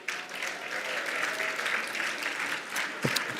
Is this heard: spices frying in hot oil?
no